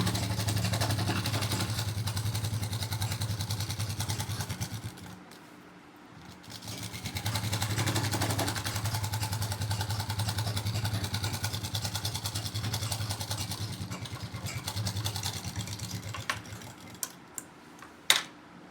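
A sewing machine stitching a semi Patiala salwar, running as a fast, steady mechanical whir with a low motor hum, pausing briefly near the middle before resuming, close and continuous, ending with a few small clicks.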